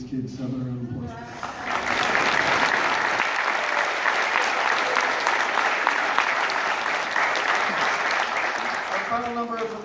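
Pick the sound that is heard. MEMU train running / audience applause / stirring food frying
audience applause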